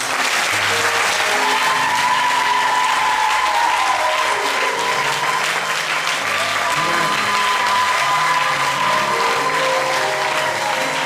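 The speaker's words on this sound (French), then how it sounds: "Est-ce qu'on peut l'applaudir?" A church congregation at a convention applauds loudly and continuously for about eleven seconds, dense clapping from a large crowd with some voices and a sustained tone underneath.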